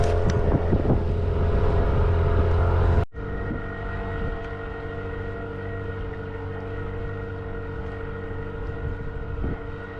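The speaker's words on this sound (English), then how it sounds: "The wind's come up, it's nice and fresh now." Fresh wind of around 10 knots rushes past while sailing a boat in Bynoe Harbour, first as heavy rumbling buffeting, then cutting to a steadier, lighter whoosh with a faint continuous hum underneath.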